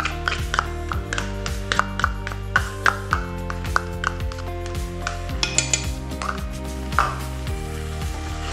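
Chicken, onion and ginger garlic paste stirred in a pan, with a spoon scraping and clinking against metal in irregular strokes over a soft sizzle, fairly close and moderately quiet.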